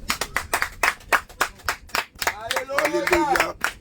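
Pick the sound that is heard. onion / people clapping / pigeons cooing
people clapping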